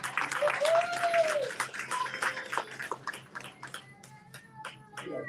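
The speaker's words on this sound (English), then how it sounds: "So let's give him a warm round of applause." An audience at a charity brunch gives a warm round of applause, a dense burst of clapping that thins into scattered claps, with a voice and some crowd noise mixed in.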